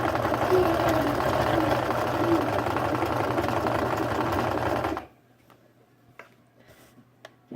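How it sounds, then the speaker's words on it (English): A sewing machine stitches baby leggings in a fast, steady mechanical whir for about five seconds, then stops. Faint ticks and room sounds follow. "I'm just trying to keep everything as straight as possible while I sew this"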